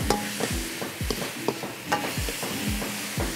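Pad krapow with chilies and fish sauce frying in a pan, a rapid rhythmic series of spatula scrapes and knocks over a light sizzle, close and steady.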